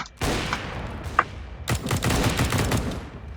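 Sharp automatic gunfire from the video game CS:GO, several rapid bursts of close, loud shots with a brief metallic ping between them, heard alone without talk.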